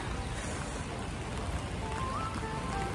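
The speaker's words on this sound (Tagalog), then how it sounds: "kailangan natin tong ulan na to bago mag summer" Steady rain falling, a dense continuous patter on surfaces with no voices, even and close throughout.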